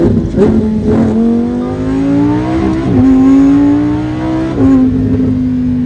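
A 2023 Lamborghini Huracan Tecnica accelerates hard, its engine note rising in pitch through three gear changes with brief dips at each shift, loud and close throughout without talk.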